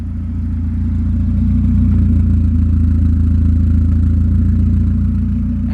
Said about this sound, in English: this is my BMW E30 and we got the Valvetronic exhaust installed on it